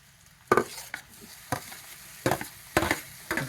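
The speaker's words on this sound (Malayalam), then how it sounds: "ഇനി ഇതിലേക്ക് നമുക്ക് തക്കാളി ഇടാം." Tomatoes go into a pan of onions and ginger frying, giving a quiet background sizzle broken by several sharp stirring and scraping bursts at irregular intervals, with no voices.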